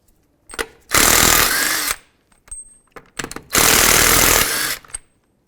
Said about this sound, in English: 21 millimeter socket, remove all 5 of your lug nuts.